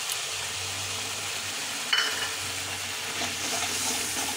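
Ginger paste sautéing in a pan, with a steady soft sizzle and a brief scrape of stirring near the two-second mark, close and fairly quiet, no voices.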